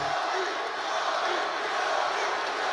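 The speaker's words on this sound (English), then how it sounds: "Well, obviously pro-Laker crowd here and pro-Kobe." A pro-Lakers arena crowd at a basketball game roars in a steady, dense wash of cheering and shouting that continues throughout, with no pause.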